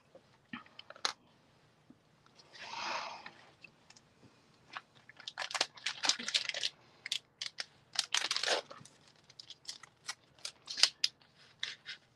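Scissors cut out paper pieces for a craft project, a run of close, crisp snips and crunchy cuts in uneven bursts with soft paper rustling between them.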